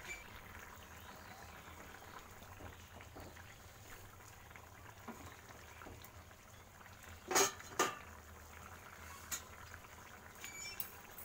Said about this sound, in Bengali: ফুটতে থাকুক